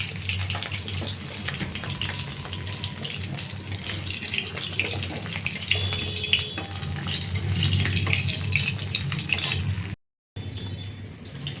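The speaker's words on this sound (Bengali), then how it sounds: "বাপি এখন চিকেনটাকে একদম পরিষ্কার করে করে ধুচ্ছে" Chicken pieces are rinsed under a running kitchen tap in a basin, making a continuous close rush of water for about ten seconds before a brief cut and resumption.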